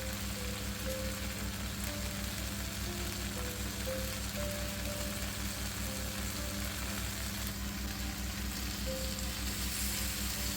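Boiled pasta goes into a hot pan and fries, a soft, steady, even sizzle held throughout, faint and continuous with no voices.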